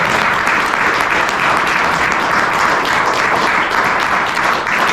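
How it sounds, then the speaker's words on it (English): A room full of people at an annual meeting applauds for a departing member named Jack, dense, loud, continuous clapping that holds steady from start to finish with no voices. "I just asked that we take 1 second to another round of applause for Jack's great"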